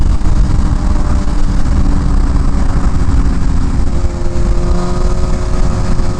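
A brand new BMW M1000RR motorcycle running its engine, a loud, steady, close rumble with no pauses over the whole stretch.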